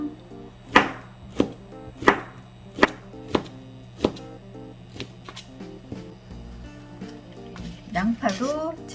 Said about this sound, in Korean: 채 썰어 주시면 되겠습니다